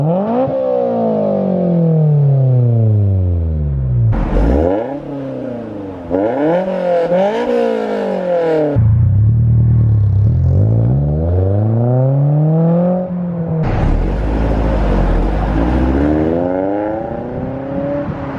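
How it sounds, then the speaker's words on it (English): A 2008 Honda S2000 exhaust revving hard several times, loud and close, the engine pitch climbing and falling in repeated sweeps with pops between. "let's get an exhaust clip."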